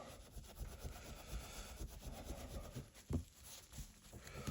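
A cloth rubbed back and forth over the suspension bar of a WW1 medal, faint close scrubbing and rasping strokes with a brief louder knock, no voices.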